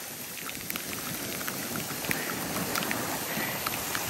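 Heavy rain falls at Jones Beach on Long Island, a dense, steady hiss of drops pattering on surfaces. Occasional sharper taps rise above the constant wash, and no one speaks.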